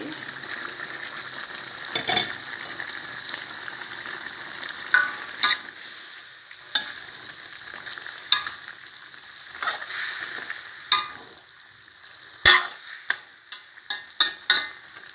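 Chicken stir-fried with kale, Thai eggplant, kaffir lime leaves and long red chilies sizzles steadily in a hot pan, broken by repeated sharp scrapes and clacks of a spatula tossing the food.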